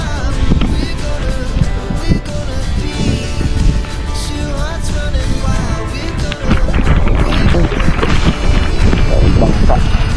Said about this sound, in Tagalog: Malakas na yung ulan.